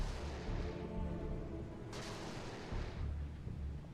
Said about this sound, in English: This Udaloy is just popping missiles like there's no tomorrow.